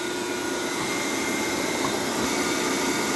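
Metal lathe running in reverse after its motor wires were swapped, giving a continuous loud, even whirring hum with a steady tone and no talking.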